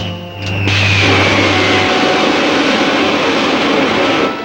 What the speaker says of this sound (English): Safety belts fastened. Fire pilot jets.